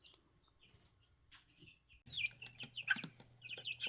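Four-week-old chickens in a brooder cluck and chirp softly, quiet scattered peeps at first, then a closer burst of clucking and chatter over a steady low hum.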